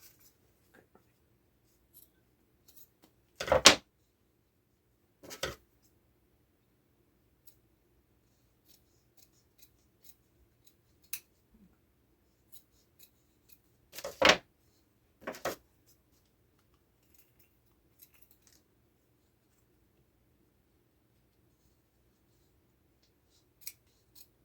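Scissors trim off excess material on a DIY craft headband, a handful of short, crisp snips heard up close and spaced far apart, with long near-silent gaps between them.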